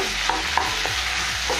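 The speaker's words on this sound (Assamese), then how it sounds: "এইখিনি দি ভালদৰে লৰাই দিম।" Pork with sesame seeds and fresh coriander is stirred in a frying pan, producing a loud, steady sizzle with a few quick scraping strokes of the spatula.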